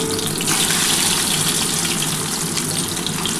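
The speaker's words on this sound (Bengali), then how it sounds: "এবার হালকা করে ডিমগুলো ভেজে নিচ্ছি।" Eggs frying gently in oil in a home kitchen pan, a steady, dense crackling sizzle that runs unbroken and fairly loud throughout, with no voices.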